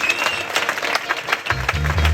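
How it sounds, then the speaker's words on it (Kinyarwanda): Church congregation clapping in praise, a busy wash of many hands heard close and fairly loud, with a low thump of music or drums coming in toward the end. "dukomera Imana amashyi"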